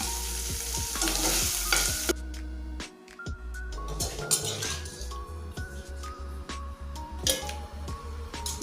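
Cubes of paneer fry in a pan with a little salt, giving a loud sizzle for the first two seconds. Stirring follows, with repeated clinks and scrapes of a utensil against the pan.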